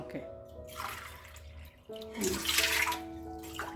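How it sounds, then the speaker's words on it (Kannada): Eight glasses of water are poured into a pot holding four cups of sago, splashing in two short bursts with a brief pause between, faint and close, and a voice speaks softly beneath. "ಎಂಟು ಲೋಟ ನೀರು ಹಾಕೋಬೇಕು"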